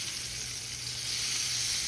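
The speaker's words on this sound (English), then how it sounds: "we're going to sear these off" Flour-dusted country pork ribs sear in a hot pan, giving a steady, even sizzle of frying fat, fairly quiet and continuous with no voices.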